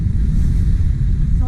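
Steady wind blusters across the mic on a North Norfolk beach at Cley, a loud, continuous low roar with no break across the short span.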